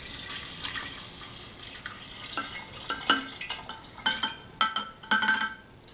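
Tap water splashes and trickles into a sink while drink containers are rinsed out, with the clink and knock of the containers growing louder and more frequent toward the end.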